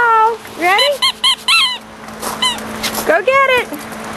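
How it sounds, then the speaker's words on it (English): A dog chews a squeaky toy ball, producing a series of loud, high, rubbery squeaks in quick bursts with brief gaps between them. "You squeaking the ball?"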